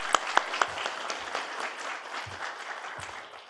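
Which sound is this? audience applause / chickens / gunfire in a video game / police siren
audience applause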